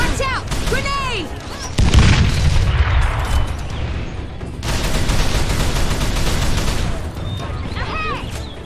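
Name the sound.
grenade explosion in Call of Juarez The Cartel video game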